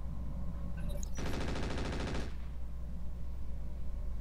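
Mech turrets in Roguetech let loose a single rapid-fire automatic burst lasting about a second, mid-loudness against a steady low engine-like drone, then cut off abruptly.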